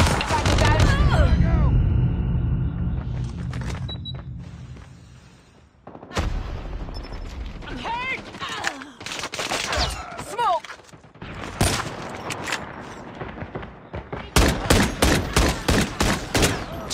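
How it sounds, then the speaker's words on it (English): Gunfire in the Call of Duty video game during a night-mode match, with a sentry gun in play: dense loud bursts and rapid repeated shots, booms and clatter in irregular clusters, with voices mixed in. "Sentry gun."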